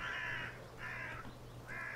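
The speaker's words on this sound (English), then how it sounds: "A murder of crows is eating eagerly." A murder of crows caws while feeding in the game The Last Door, with three harsh, evenly spaced calls over a low steady background hum.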